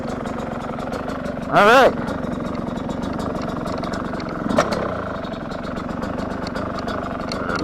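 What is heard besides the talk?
Yamaha YZ125X two-stroke dirt bike engine idling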